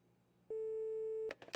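In the video game My Winter Car, an unanswered phone call gives a single steady electronic ringback tone lasting nearly a second, clear and close, then a brief burst of other sound.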